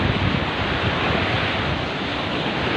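Powerful surf rolls onto a Japanese beach in a constant, loud wash of breaking water, with gusty wind noise on the microphone and no talking.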